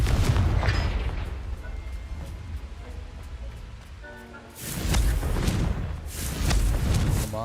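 Bombarda blast spell in the video game Hogwarts Legacy, a deep booming explosion erupting midway after a quieter stretch, followed by rumbling debris and a second surge, loud and close.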